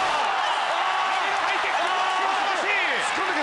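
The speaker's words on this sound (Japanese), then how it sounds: "ペタス頑張れという大きな大きな歓声が名古屋にこだまします。" A large arena crowd at a kickboxing fight in Nagoya roars and chants in support of a fighter, a loud continuous wall of cheering under an excited commentator's fast play-by-play.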